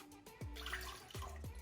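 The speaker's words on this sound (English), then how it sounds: "Pour 150 grams of water." Water is poured into a bowl for a pickling brine, a soft close gurgling stream with a few glugs, fairly quiet and brief, with no talking over it.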